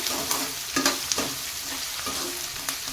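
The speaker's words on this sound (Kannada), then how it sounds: "ಈರುಳ್ಳಿ ಸ್ವಲ್ಪ ಕರಿಬೇವು ನೋಡಿ ಇದನ್ನೀಗ ಚೆನ್ನಾಗಿ ಈಗ ಫ್ರೈ ಮಾಡ್ಕೋತೇನೆ" Onions and curry leaves fry in a pan with a bright continuous sizzle, broken by repeated scraping stirs of a spoon, close and fairly loud with no talking.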